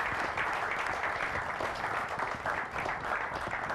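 A church congregation claps and cheers together to welcome a guest, a dense, steady wash of applause lasting throughout at a moderate level with no one speaking over it.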